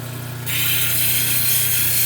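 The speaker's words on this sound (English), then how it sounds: "Let's grind a little more." A power grinder works a gnarly gray shell piece being shaped into a pendant, a steady close-up motor hum that rises into a harsh abrasive rasp as contact begins.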